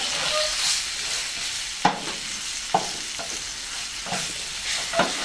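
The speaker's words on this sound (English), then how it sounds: "We want to get this all browned up nicely." Beef browning in a pressure cooker for stew, a steady sizzle and frying hiss with occasional stirring scrapes and clanks of a utensil against the pot, close and alone.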